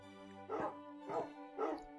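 A wolf puppy in Minecraft gives three short, soft yips or whimpers at an even pace, faint and close, over a quiet steady background tone.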